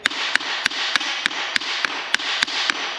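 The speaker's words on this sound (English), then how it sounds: "So I've just been kind of hitting it with a hammer, tapping it, trying to like force it out as much as I can." A hammer taps steadily at a stuck cap on an ex-military truck during restoration, about ten sharp metallic strikes evenly spaced over a loud hissing background, close and distinct.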